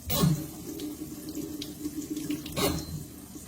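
Hands are rinsed under a running kitchen tap, a steady close stream of water with splashing bursts as the hands move under it, heard alone.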